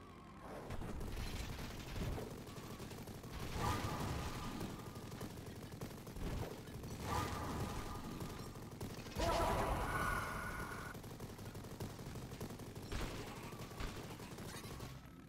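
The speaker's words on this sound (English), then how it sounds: "Shotgun!" Shotgun blasts in the Mighty Goose video game, several heavy booming shots spaced a few seconds apart over busy game effects and chaotic action noise.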